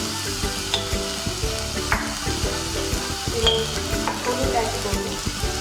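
Onion paste sizzling in a pan while being stirred, a continuous frying hiss broken by repeated scrapes and clinks of the spoon against the pan, close and fairly loud, with no speech.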